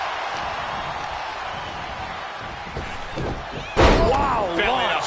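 Heavy slam of a belly-to-belly suplex in a WWE wrestling match, one loud impact thud landing near the end over constant crowd noise, with excited commentary voices around it.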